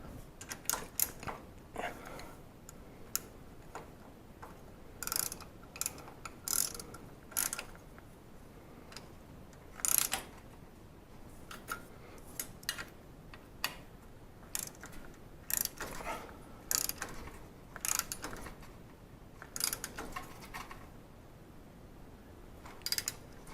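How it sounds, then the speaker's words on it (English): Ratchet work on a garage door spring cable drum: a loose run of sharp mechanical clicks and creaks comes in irregular bursts, close and fairly quiet, with no talk. "I'll come back in a moment with my ratchet to tighten those up"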